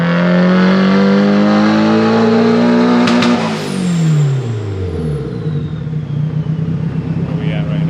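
Nissan 240SX S14 engine on a dyno during a boost tune, revving hard and loud with a rising then falling pitch as the run peaks and the throttle lifts, under voices talking.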